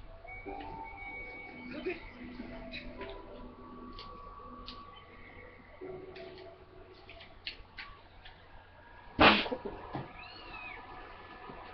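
In The Legend of Zelda: Skyward Sword, a cat gives one brief, sharp meow near the end, standing out over soft game music and ambient tones.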